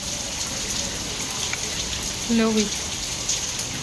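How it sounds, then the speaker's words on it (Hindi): Heavy rain pours down steadily in a dense, even hiss, with someone briefly speaking over it partway through. "बहुत तेज़ बारिश आ रही है, बहुत ज़्यादा तेज़।"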